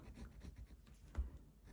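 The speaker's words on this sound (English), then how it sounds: "So I'm going to go over this in pencil" Pencil writing on the back of fabric for a thrifted T-shirt patchwork, soft rhythmic scratchy strokes close by and fairly faint, with one slightly heavier tap partway through.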